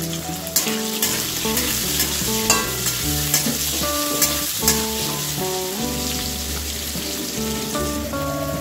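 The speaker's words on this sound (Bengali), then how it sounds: "অল্প লবণ আর অল্প হলুদ গুঁড়ো দিয়ে এখন ভালো করে আমি ভেজে নিব" Potatoes frying in a pan with a little salt and turmeric make a loud, continuous sizzle and crackle up close, broken by repeated stirring scrapes, with no talking.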